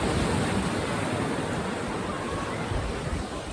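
Waves on Cyprus Lake, Tobermory, wash onto the shore in a steady, close rush of surf, with wind noise brushing the microphone.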